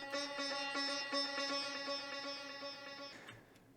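Sitar sample with some high end removed, treated with reverb and delay for organic house: a bright, buzzing plucked drone with rich overtones and repeated strokes, heard alone, then cutting off into a short reverberant tail.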